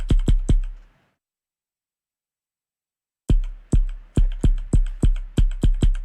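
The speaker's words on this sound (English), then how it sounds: "my mic is picking up my keyboard" Keys clack sharply on a computer keyboard picked up by a nearby microphone: three quick strokes, a pause of silence, then a steady run of about nine firm keystrokes.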